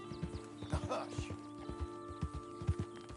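Horse hooves clip-clop in a steady walking rhythm on a trail in Red Dead Redemption 2, close and clear, with a voice speaking over the hoofbeats partway through.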